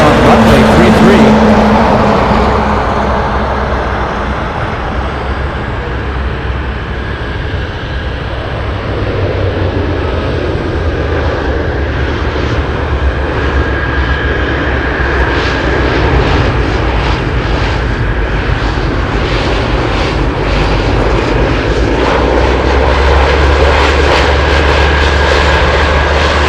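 An Ace 1900 aircraft lands on runway 33 at Anchorage airport, its engines roaring loud and continuous for the whole stretch, with people talking underneath.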